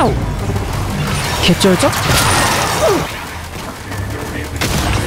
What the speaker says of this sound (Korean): 재변한 수류탄 제대로 들어갔어요.